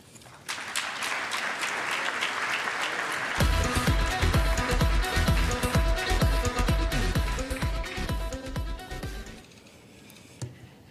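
Audience applause welcoming a presenter to the stage at the 2016 Arab American of the Year Award ceremony, rising into loud, sustained clapping that fills the room for several seconds, then fading out near the end.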